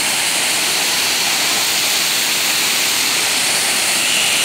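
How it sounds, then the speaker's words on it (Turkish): Yerköprü Waterfall's water crashes into the plunge pool at its base, a loud, continuous, close roar with no pauses. "şelalenin tam dip noktasında suların döküldüğü alana doğru"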